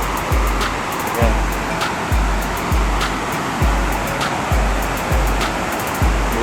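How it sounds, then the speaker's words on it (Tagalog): Loud, continuous roar of rushing water at Bustos Dam in the Philippines, a heavy churning current with a regular low thumping pulse underneath. "ang lakas pa rin, ang lakas ng agos."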